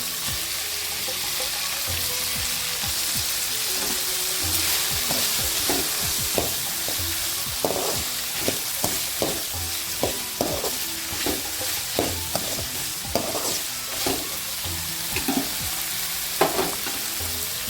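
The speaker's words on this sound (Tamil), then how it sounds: "கொஞ்சம் தக்காளி வதங்கி பீக்கங்காய் சேர்த்துக்கலாம்." Tomato and ridge gourd sauté in a hot pan with a continuous hiss and sizzle, broken by frequent close scrapes and knocks from a stirring spoon.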